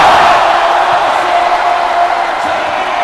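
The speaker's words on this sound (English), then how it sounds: "Brandon Rosser electrifying the crowd here in Caloocan" A basketball arena crowd in Caloocan roars after a slam dunk in a San Miguel Alab Pilipinas versus Singapore Slingers game, a loud, sustained wall of cheering and shouting that fades only slightly over a few seconds.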